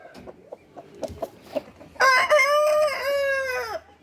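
Soft clucks and scratchy calls come from a breeding rooster, then it lets out one loud, drawn-out crow up close that lasts nearly two seconds before trailing off.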